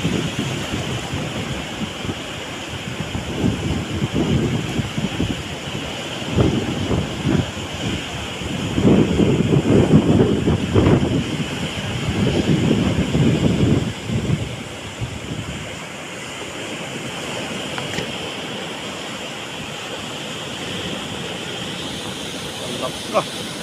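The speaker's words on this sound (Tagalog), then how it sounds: "Grabing alon yan" Large waves crash in a strong monsoon wind, rolling surges of surf under constant gusty wind buffeting the microphone, heaviest in the middle then easing to a steady roar.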